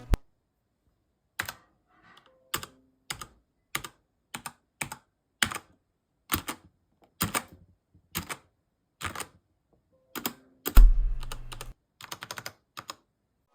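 Key click sound effects for a Minesweeper video game: sharp single clicks at an irregular, unhurried pace, a burst of several overlapping clicks near the end, with silence between them.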